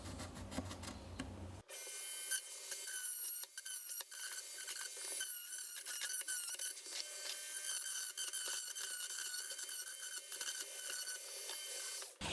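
A Dremel rotary tool trims out a plastic block on the front axle of a Bruder Jeep RC conversion, starting after a brief lead-in with a steady, close high-pitched whine and rasping that holds for about ten seconds.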